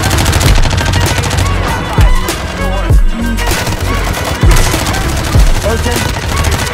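Dense, rapid bursts of automatic gunfire in a Warzone 2 Resurgence match, loud and close with sharp individual shots, while players talk over it.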